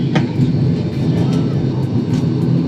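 Cabin view of an airliner's engines spooling up as the plane turns onto the runway for takeoff at a busy Tenerife airport: a loud, dense, low roar that stays steady and close, with faint voices in the cabin.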